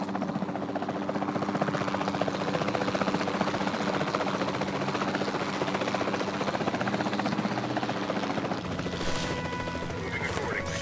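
Helicopter rotor drone in the Jurassic World Evolution 2 game, a steady loud throbbing that carries on throughout, with brief game sounds near the end.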